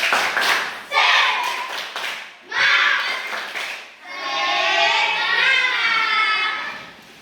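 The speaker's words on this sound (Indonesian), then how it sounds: "Mari kita tepuk semangat" A school class performs a rhythmic spirit clap in bursts of claps and taps, alternating with chanted group voices in a lively, patterned sequence.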